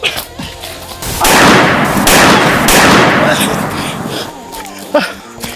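A dense burst of rapid video game gunfire roars for several seconds, loud and close, with excited voices shouting around it.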